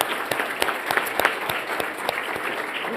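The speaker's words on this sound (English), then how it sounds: "So just a round of applause for all those sponsors." Conference audience applauds the sponsors at a fire congress closing plenary, a steady patter of clapping with a few sharper individual claps, moderately loud and continuous without speech.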